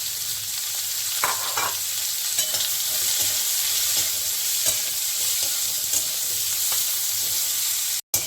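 Two medium onions fry in oil in a pan after eggplant comes out, giving a steady bright sizzle with occasional stirring scrapes and clicks, close and continuous.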